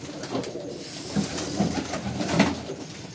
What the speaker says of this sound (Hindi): देखें कैसे कलरदार और कबूतर है पूरे।